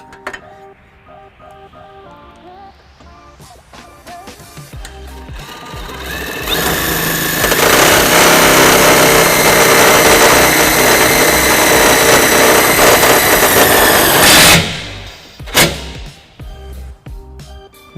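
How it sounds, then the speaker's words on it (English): A power tool with a 13mm socket whirs up to a loud, sustained high-pitched drive for several seconds, driving a self-tapping screw while installing trailer wiring on a 2013 Nissan Titan, then cuts off, followed by a couple of brief clicks and rattles. "We have our power tool with a 13mm socket that we will be using to do that"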